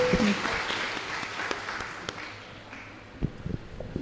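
Applause from a small group at a career awareness programme, fading from a dense patter into scattered, uneven claps with a few sharp individual hits near the end.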